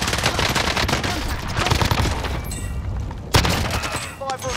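Dense automatic gunfire fills a shooter video game match, loud and continuous bursts with a sharp blast near the end, while players talk over it.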